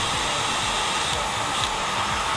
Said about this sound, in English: Where's the vacuum?